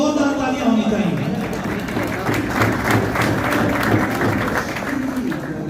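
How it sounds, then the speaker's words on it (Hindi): An audience applauds at the opening ceremony of the Jhelum Cricket League Season 5, with steady crowd clapping under a loud, echoing announcer voice throughout. "मैं चाहूंगा कि जेहलम फोरम के लिए एक भरपूर पुरजोश और जोरदार तालियां होनी चाहिए।"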